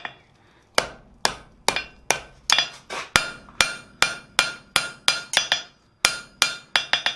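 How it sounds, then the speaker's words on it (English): Hammer blows on hot steel while forging tooling tongs, a long series of sharp, loud metallic strikes in an irregular but steady rhythm, each ringing briefly before the next, with no talking. "Hammer that out."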